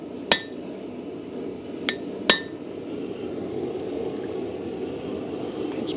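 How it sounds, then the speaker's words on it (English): A hammer strikes a metal bulldog bottle opener on an anvil, three sharp ringing blows, the first loudest, with a lighter tap between, spaced apart over a low workshop hum. "we're gonna hammer down until we can hear it hitting the anvil"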